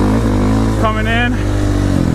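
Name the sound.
motorcycle engine revving while riding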